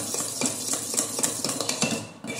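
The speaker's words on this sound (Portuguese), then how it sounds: "Então eu vou mexer com o meu batedor da batedeira" A stand mixer's whisk attachment stirs fine powder in a metal bowl, giving soft repeated scraping and light clinking strokes in a quick, uneven rhythm, close and moderately quiet.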